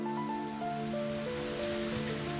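A rain downpour sound effect from the Higurashi visual novel game, a steady hiss of heavy rain on a surface, moderately loud and unbroken, heard alone under soft sustained background music tones.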